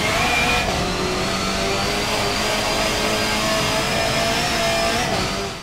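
A Honda car engine in Forza Motorsport 7 holds a loud, sustained mid-pitched drone with a gently rising whine, as if cruising at steady revs, close and continuous with no talk.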